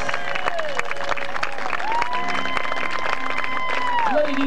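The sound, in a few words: crowd applause for human pyramid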